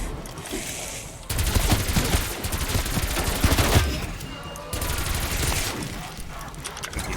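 An SMG fires in a Call of Duty-style zombies game in rapid, sustained bursts. The loud automatic fire starts suddenly, keeps going for a few seconds, pauses briefly, then resumes.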